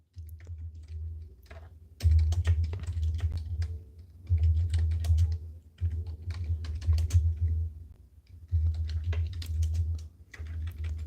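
Fast clattering keystrokes on a computer keyboard come in several bursts separated by short pauses, close and clear with no talking.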